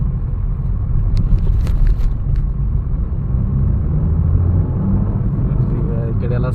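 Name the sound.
car driving on a road in Kuwait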